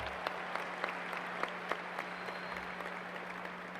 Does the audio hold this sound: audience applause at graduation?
yes